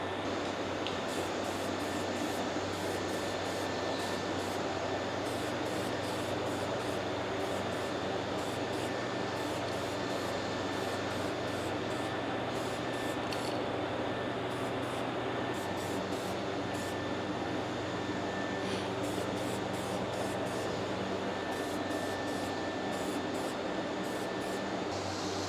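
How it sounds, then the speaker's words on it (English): Ace Hardware primer sprays steadily from an aerosol can onto a metal sandbox excavator, a continuous hissing spray lasting throughout with brief pulses, fairly quiet and close. "spray this thing down, I guess."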